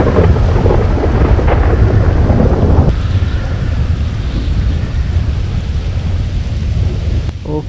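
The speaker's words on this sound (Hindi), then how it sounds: "ये तो बिजली भी कड़क रही है" Thunderstorm in GTA 5 with heavy rain pouring steadily, a loud crack and rumble of thunder early on fading into a continuous rain roar that persists throughout.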